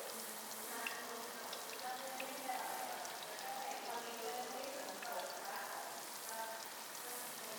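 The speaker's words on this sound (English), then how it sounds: "Now we begin cooking our fish." Fish frying in a hot pan at home, a faint steady crackling sizzle with scattered pops running throughout.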